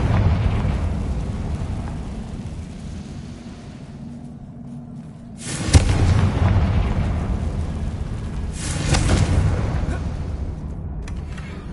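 Two booming blasts from the Confringo spell in the video game Hogwarts Legacy erupt a few seconds apart over a steady low background rumble, each swelling and then decaying slowly.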